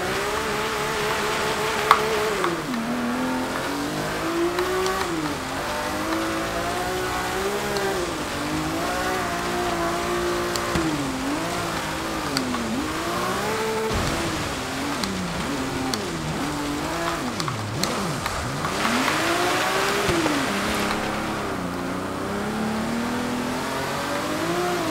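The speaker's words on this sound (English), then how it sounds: "Classic rally car in the snow going up a mountain." A classic rally car in the Forza Horizon 3 video game climbs a snowy mountain, its engine revving loudly and continuously with rising and falling pitch as it shifts and accelerates.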